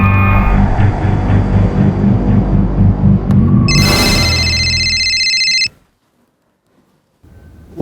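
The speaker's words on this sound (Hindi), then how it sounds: "वाइफ का फोन, जल्दी शॉर्ट बात कीजिएगा।" A telephone rings loudly and close in a tense crime drama scene, repeated electronic ring tones over a low humming bed, then the ringing stops abruptly and falls silent.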